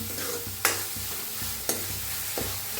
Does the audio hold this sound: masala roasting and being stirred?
yes